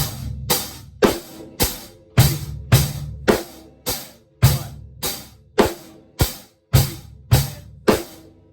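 Basic rock and roll groove on a drum kit, hi-hat steady throughout, bass drum on one, three and the and, snare cracking on two and four; close, loud and even-tempoed with no talking.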